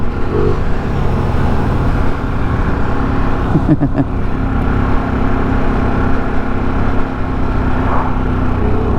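A 2023 Harley-Davidson Sportster S rides at speed in fourth gear, its engine droning loudly and steadily, lugging slightly, under constant wind noise.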